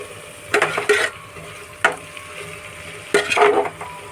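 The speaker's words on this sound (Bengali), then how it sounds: "মশলাটা একটু কষানো হোক ভালো করে, তারপর টমেটো দেবো।" Chicken and spice masala being stir-fried for biryani in a pan: a steady low sizzle broken by three bursts of spatula scraping and stirring, close and fairly loud, with no talk.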